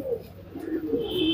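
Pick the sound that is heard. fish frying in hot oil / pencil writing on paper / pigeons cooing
pigeons cooing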